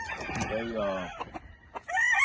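A Boneyard toppy gamefowl rooster crows nearby in a loud, drawn-out call, followed by a few short clucks and a second rising crow at the end.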